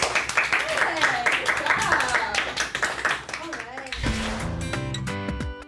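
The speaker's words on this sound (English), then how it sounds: "Let's give a round of applause for them" Round of applause on a Korean culture program, a dense patter of hand claps mixed under voices and background music, fading as a melodic tune takes over.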